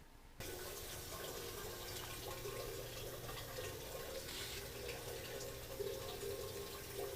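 Strike water for home brewing starts abruptly and runs through a filter in a steady, rushing stream, filling a container nearby, with a continuous splashing hiss throughout.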